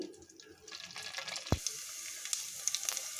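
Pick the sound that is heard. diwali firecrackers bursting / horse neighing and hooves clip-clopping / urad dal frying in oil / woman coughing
urad dal frying in oil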